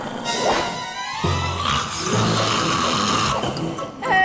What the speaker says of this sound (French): Dame Fedora ronfle comme un sanglier.